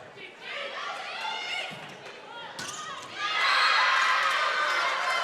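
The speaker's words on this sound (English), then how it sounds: "there have been some pretty loud cheers for the Vikings" Fans in a gym at a women's volleyball match cheer and shout, with a ball bounce and squeaks mixed in, the crowd swelling to a louder, sustained roar in the second half while voices carry over it.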